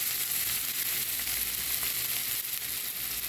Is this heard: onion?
yes